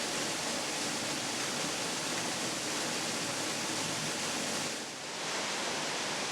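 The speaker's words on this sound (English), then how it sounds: "this waterfall that drops 50 feet" A 50-foot waterfall pours over smooth sandstone into a plunge pool in Ohio's Hocking Hills, giving a continuous, dense roar of rushing water that stays steady and close, with no voices.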